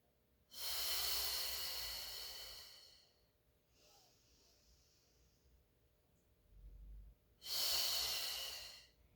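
Two long, loud breaths during a Pilates mat class, each a broad airy rush lasting a couple of seconds, separated by a quieter pause with a faint softer breath in between.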